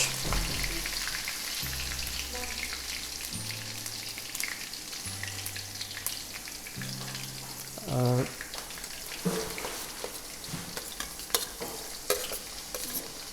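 Cumin and chopped green chillies frying in oil give a constant background sizzle, with stirring clinks and scrapes and a brief louder splutter; a voice speaks a single short word.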